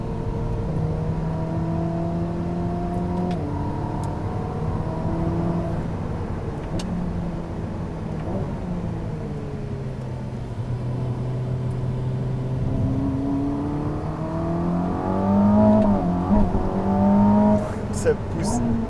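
A Ferrari SF90 Assetto Fiorano hybrid accelerates on a track, its engine note climbing through rising pitch sweeps that step back down on gearshifts, heard steadily from inside the cabin with a brief stronger surge near the end.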